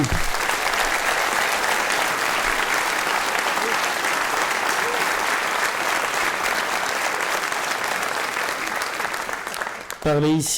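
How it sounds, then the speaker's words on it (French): Sustained, loud applause from a large audience at a New Year's greetings ceremony in Mennecy, a dense unbroken roar of clapping that tapers near the end before a voice cuts in. "Je crois qu'ils vont mériter que vous les applaudissiez encore"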